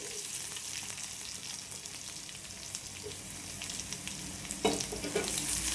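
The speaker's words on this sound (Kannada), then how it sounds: "ಈರುಳ್ಳಿ ಹಾಕ್ತೀನಿ ನೋಡಿ." Onions go into a pan with green chillies for a cucumber palya, giving a steady crackling sizzle that surges as they hit the hot oil near the end.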